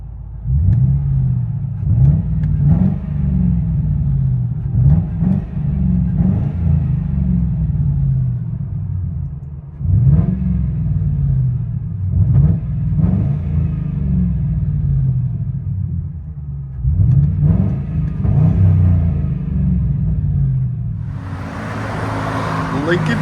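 A Lincoln Town Car with a 4.6L V8 and true dual straight pipes idles with a deep, loud burble, broken by several sharp revs that rise and fall in bursts, heard from inside the car.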